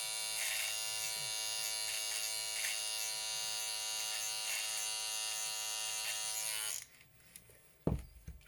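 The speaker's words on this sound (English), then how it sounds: "For extra, I got the Braun 9, Series 9, very smooth, very quiet." A Braun Series 9 electric shaver trims a beard with a steady, close, high-pitched buzz for several seconds, then switches off, leaving a brief clack.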